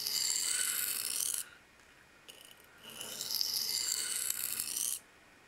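A folding knife is drawn across a sharpening stone in quick passes: two bursts of bright, rasping scrapes, each over a second long, separated by a short pause, close and fairly loud with no talking.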